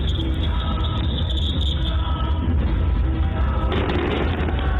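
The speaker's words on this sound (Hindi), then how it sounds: "भव्य आतिशबाजी इस समय आसमान में वहां पर हो रही है" Fireworks burst over Ayodhya during the Deepotsav 2025 festival, a dense, continuous rumble of booms and crackle blended with crowd noise, loud and sustained with no distinct pauses.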